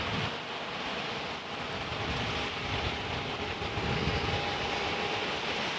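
An Airbus airliner arrives at Raleigh-Durham, its engines producing a faint, steady distant rumble with a thin whining tone, heard alone.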